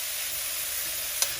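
Drumstick leaves fry in a pan for a Kadapa-style munagaku vepudu, making a steady close sizzling hiss that runs throughout, with one brief utensil click near the end.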